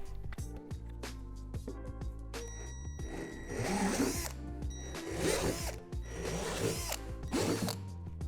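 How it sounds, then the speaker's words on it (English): A drill repeatedly spins up and bites into a plastic swing-set slide in short bursts, close by, with clicks and ratcheting noises between each hole. "Take the smaller piece and drill out the 4 holes along the edge."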